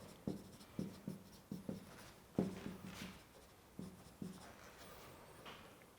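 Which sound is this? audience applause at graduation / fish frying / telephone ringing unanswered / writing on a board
writing on a board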